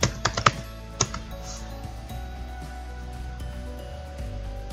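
Several sharp clicks of typing on a computer keyboard into a search box, a quick burst of keystrokes at the start and a lone tap after, then a faint hum with no talk.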